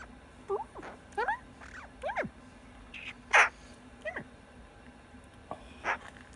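Several short, harsh bird calls ring out at intervals, some close and fairly loud, others fainter, against quiet outdoor background hiss.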